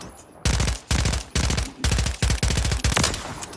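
A gun fires in rapid automatic bursts in Call of Duty Modern Warfare Remastered, about six loud close strings of sharp shots separated by short pauses.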